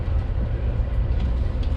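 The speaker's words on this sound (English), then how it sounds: "We're in the train in Whittier and moving toward the tunnel" A train moves along near Whittier, Alaska, heading toward a tunnel, heard from inside the car as a steady, heavy low rumble of rolling wheels and rail noise with no talk.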